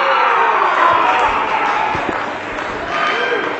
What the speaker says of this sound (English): The crowd goes mad just as Abusi gets a touch at it.